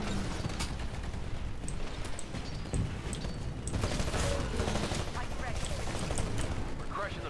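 Gunfire in a multiplayer shooter with giant Titan mechs: dense, continuous bursts of shots and mechanical clatter through the whole stretch, with a voice talking over the action.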